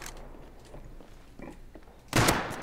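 Faint background noise, then a sudden loud burst of rapid gunfire in the video game Rust near the end, sharp and close.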